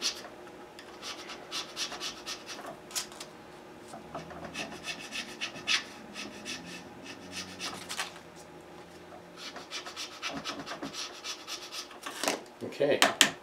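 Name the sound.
filing a guitar nut by hand with a file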